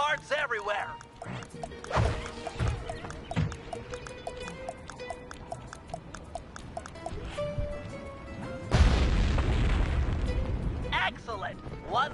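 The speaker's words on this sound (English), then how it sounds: "Place the dynamite when you get near the anchor, or kaboom!" A dynamite blast in the stealth video game Sly Cooper 3 erupts as a loud, sustained boom late in the clip, following a stretch of game sounds with a voice talking over them.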